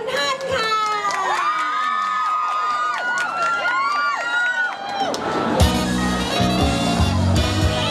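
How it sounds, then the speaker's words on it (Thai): A lively audience at a Thai concert cheers and shouts with high excited voices, then a burst of loud cheering and clapping swells up near the end. "ขอเสียงปรบมือกับคุณฮันค่ะ"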